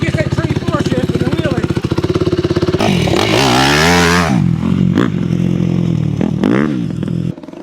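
A rebuilt dirt bike engine revs hard and climbs through the gears with a loud, close, buzzing drone, rising and falling pitch as it shifts from third to fourth, then settles into a rougher steady run.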